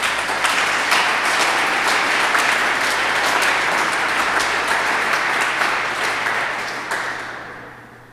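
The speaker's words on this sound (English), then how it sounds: "So again, a nice round of applause for them." Loud, sustained clapping from a summit audience at a substance use addiction event, a thick wash of hands that holds steady and then tapers off toward the end.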